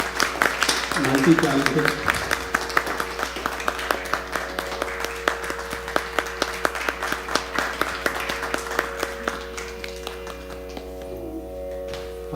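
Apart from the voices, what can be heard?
audience applause at a music academy fundraiser concert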